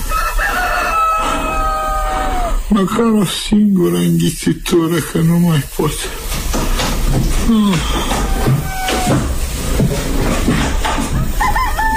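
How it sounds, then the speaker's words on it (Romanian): Roosters crow at dawn in a radio drama, their rising calls sounding near and loud while someone speaks over them and rustling fills the background. "Că iaca au început să cânte cocoșii."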